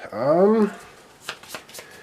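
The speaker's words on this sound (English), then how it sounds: "Shuffling, shuffling, shuffling." After a brief vocal sound, Pandemic Legacy Season 1 infection cards are shuffled in a few quick, soft papery riffles close by.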